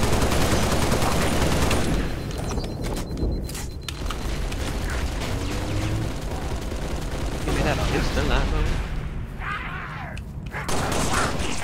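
Sustained turret gunfire in Halo Reach Firefight mode, loud continuous automatic bursts with booming low thuds and brief lulls, mixed with other game noise and speech.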